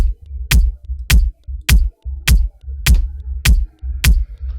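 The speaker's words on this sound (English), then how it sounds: "Then I played a kick." A kick drum thumps seven times at a steady beat in a programmed Kapeke-style pattern, each hit a deep low punch with a sharp click on top, loud and close with nothing else playing.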